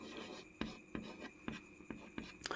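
Chalk or a marker taps and scratches across a classroom board while a dimensional formula is written out, giving a rhythmic series of short strokes about half a second apart, near and soft, with faint voice in the background.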